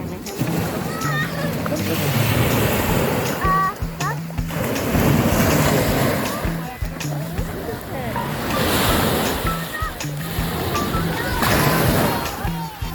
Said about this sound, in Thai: ทะเลที่ตุรกีก็จะประมาณนี้นะคะ ทุกคน